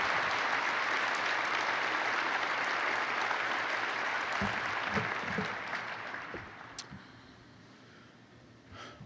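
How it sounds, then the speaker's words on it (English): An audience at a 2014 State of the City address applauds police officers, dense clapping that fades toward the end, leaving a few scattered claps and faint voices in a large room. "please join me in a round of applause thanking all of our officers and staff of Long Beach"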